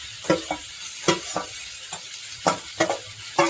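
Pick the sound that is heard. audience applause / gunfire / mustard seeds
mustard seeds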